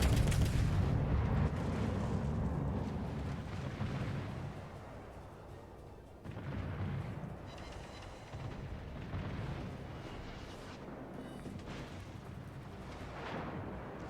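Heavy naval gunfire from warships in World of Warships, with repeated deep booming salvos and rumbling blasts rolling one into another, loud and dense throughout with no talking.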